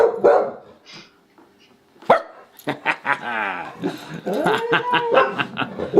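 Puppy and dogs bark loudly and close in a busy, overlapping burst of yips and barks, with rapid repeated calls filling most of the stretch.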